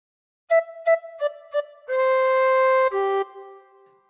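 A tin whistle plays a phrase of Old MacDonald Had a Farm, close and clear. Four short, crisp notes are followed by a long held tone, which then steps down to a lower note and fades.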